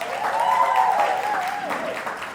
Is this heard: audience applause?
yes